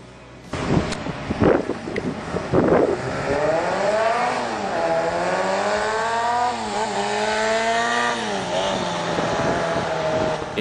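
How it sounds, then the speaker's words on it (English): A high-revving 120cc four-cylinder motorcycle engine drones loudly and steadily, its pitch rising and falling with throttle after a few sharp clatters at the start. "As the bike has 4 cylinders, its sound is excellent and not far from a big bike"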